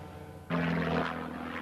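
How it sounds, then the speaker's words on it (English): Prototype Trago Mills light aircraft landing at Boscombe Down, its engine a steady droning roar that comes in abruptly and holds loud and fairly close for the rest of the moment. "The third light aircraft to be tested is the prototype Trago Mills, here landing at Boscombe Down"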